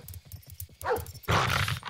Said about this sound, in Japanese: 犬厄介ですよね、このゲーム。